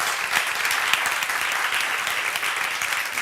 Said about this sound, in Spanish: Os voy a pedir un aplauso para ellas